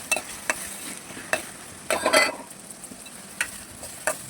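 Sliced onions sizzle softly in hot oil in a pan while a spoon stirs them in a few separate scraping strokes, for an onion chicken curry, quiet and close with no talking.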